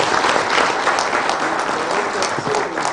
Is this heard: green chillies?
no